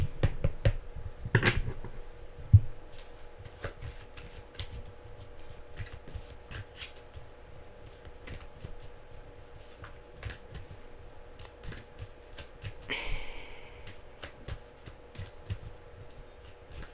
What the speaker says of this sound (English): Having a hard time shuffling.